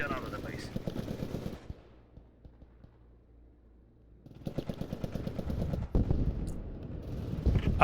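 Automatic gunfire from the World War II shooter Post Scriptum, with sharp bursts of rapid shots that stop, leave a quiet gap, then return as dense fire with scattered single cracks. Voices talk over parts of it.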